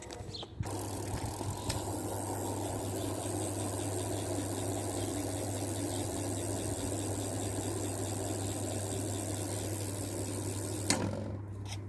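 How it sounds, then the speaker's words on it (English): A freewheel hub on an Aqua C100 bike, its wheel set up as a fat bike wheel, buzzes in a steady, loud continuous ratchet whir close up, with a low hum underneath and brief clicks at the start and end. "I'll show you how loud this hub is"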